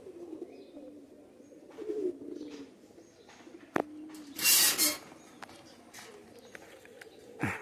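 Pigeons kept at a loft in Khulna coo softly and repeatedly at close range, low and gentle, with a short rustle of wings and a few faint clicks around them.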